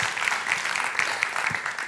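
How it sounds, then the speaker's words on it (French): An audience at a banking and insurance conference session applauds itself, a fairly sparse group clapping with distinct individual hand claps in an uneven patter, moderately near. "vous pouvez vous auto-applaudir pour commencer"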